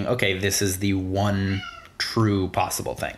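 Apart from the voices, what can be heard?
cat meowing loudly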